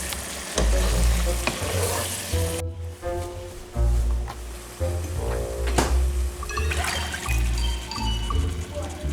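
Beans frying and sizzling in a hot pan while being stirred, a steady loud sizzle with clattering scrapes of the utensil throughout, and a brief moment of lower noise early on.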